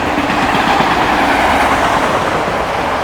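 A CSX fast freight train passes close by at speed. Its rumble and clatter are loud and steady throughout, with a faint rhythm of wheel clacks and no voices.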